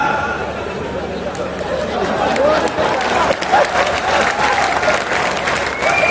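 A festival crowd applauds a Hindi comic poet at a Maharajganj mahotsav: loud, continuous clapping from a large audience, with chatter and a voice carrying over it.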